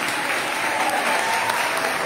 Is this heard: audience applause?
yes